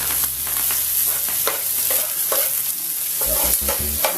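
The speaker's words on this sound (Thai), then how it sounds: "คั่วให้กุ้งสุกก่อนนะครับ" Shrimp stir-fried with garlic in a pan for shrimp fried rice, a bright continuous sizzle broken by rhythmic scraping strokes of a spatula, close and loud, with a few low knocks near the end and no talking.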